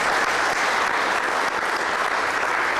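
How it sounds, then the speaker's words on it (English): Steady, dense applause from an audience at a talk, a continuous wash of many hands clapping at even loudness throughout, with no voices standing out. "I want to hear some applause for that."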